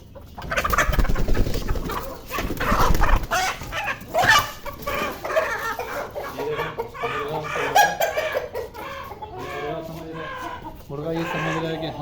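Hens and a rooster clucking and squawking close up in a coop, busy overlapping calls throughout, with people talking and some laughter mixed in.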